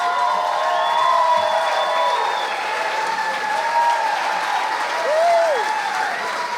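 Loud audience applause with scattered cheers and whoops at an awards ceremony honoring a Hall of Fame inductee, a continuous dense clapping wash with a voice faintly under it.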